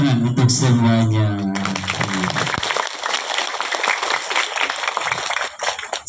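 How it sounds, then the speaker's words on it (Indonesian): Applause from an audience at a school Maulid Nabi Muhammad commemoration breaks out after a short announcement, a dense steady clapping that continues for several seconds. "Beri tepuk tangan untuk semuanya."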